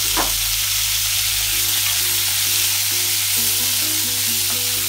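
Chopped carrots, green peas, corn, onion and green chili sizzle steadily in a hot pan for oats upma, with a constant bright frying hiss and soft stirring scrapes throughout.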